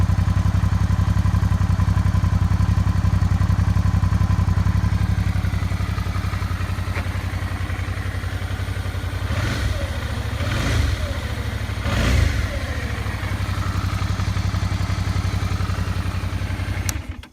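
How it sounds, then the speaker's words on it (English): A 2007 Suzuki V-Strom 650 motorcycle with stock exhaust idles with a steady low throb, then revs sharply three times in quick succession before settling back to idle. "that's my bike, 2007 V-Strom 650"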